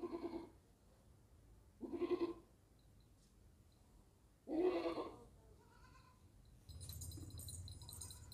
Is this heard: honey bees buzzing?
no